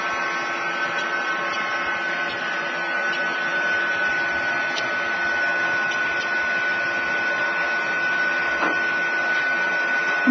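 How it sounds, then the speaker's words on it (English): A heat gun blows a steady, even whir of hot air onto an acrylic sheet being softened to bend, a continuous close fan roar with a faint tonal hum and no talking. "now we're ready to hit it with the heat gun. Okay? So I apply heat to it."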